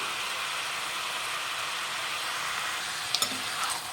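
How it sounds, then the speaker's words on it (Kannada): Hotel-style Guntur chicken frying in a pan with turmeric gives a steady, dense sizzle throughout, close and fairly loud, with a couple of brief clicks near the end. "ಅರಿಶಿನ ಹಾಕ್ಬಿಟ್ಟು ಚೆನ್ನಾಗಿ ಫ್ರೈ ಮಾಡಿ ಫ್ರೆಂಡ್ಸ್"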